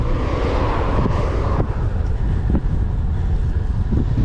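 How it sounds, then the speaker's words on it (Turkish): Loud, roaring wind buffets the microphone in a constant rumbling rush, with occasional gusts and knocks and no voices. "Şu anda çok fena rüzgar esiyor."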